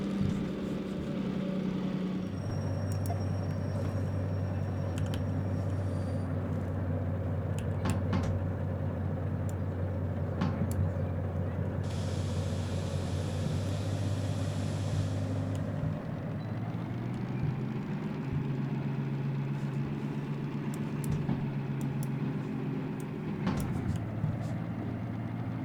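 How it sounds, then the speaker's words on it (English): Diesel locomotive engine in the train game Derail Valley, a steady low rumbling idle with a deep droning hum that holds throughout, shifting pitch slightly midway, with faint clanks and clicks over it. "I love hearing that diesel engine."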